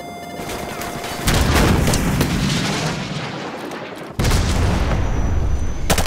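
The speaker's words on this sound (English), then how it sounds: "So, grab another Stinger and fire again." A Stinger missile launches in Call of Duty MW Remastered with a loud whooshing roar that sustains, then a second heavy blast cuts in abruptly and rumbles on, both close and dense.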